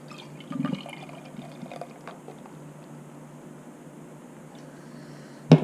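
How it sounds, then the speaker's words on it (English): Canned hazy IPA poured into a glass, a soft liquid gurgle and fizz running steadily for several seconds, quiet and close, ending with a sharp clink. "Pours out this really nice, deep, hazy orange type color."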